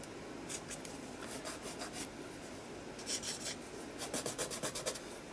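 A hand rubs lightly over a surface, making a soft, steady dry rasp with brief rhythmic bursts of quicker strokes near the end, close and quiet.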